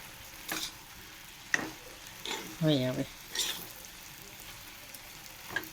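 Food frying in a pan to a reddish brown after a little sugar was added, giving a steady crackling sizzle with scattered stirring bursts; a voice speaks briefly in the middle.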